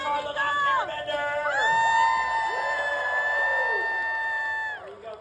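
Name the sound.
audience cheering and applauding at Avatar panel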